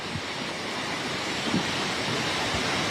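Floodwater rushes in a continuous, broad roar, steady and fairly loud, with a few faint low thumps beneath.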